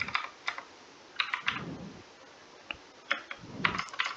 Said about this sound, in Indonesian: Selanjutnya kita ketik perintah